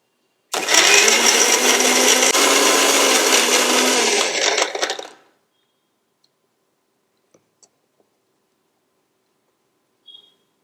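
A kitchen mixer grinder blending homemade body cream ingredients to a smoothie-like consistency runs loud and steady for about four and a half seconds, then winds down, followed by near silence with a few faint clicks.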